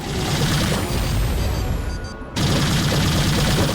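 A gun in the video game Mace Griffin: Bounty Hunter fires loud, continuous rapid bursts, pausing briefly partway through before the dense barrage resumes at full strength.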